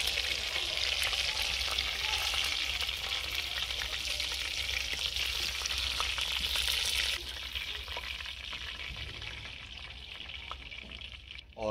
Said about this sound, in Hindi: और बाकी कबाब भी हम फ्राई कर लेते हैं।